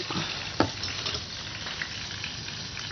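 Butter fries in a pan with pure fresh-turmeric essence, giving a steady, close sizzle with a brief stir-like clatter near the start and no voices.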